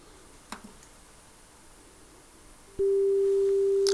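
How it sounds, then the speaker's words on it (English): After a moment of quiet handling noise, a loud steady test tone switches on abruptly and holds unbroken on a cassette deck being calibrated with a Japanese domestic-market tape. "So test tones come in."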